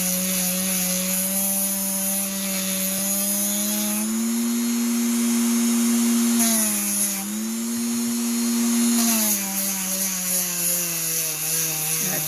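A Dremel sands and polishes wet dinosaur gembone with low-grade grit, giving a steady high-pitched rotary whine that dips and rises in pitch as the tool bears down on the stone.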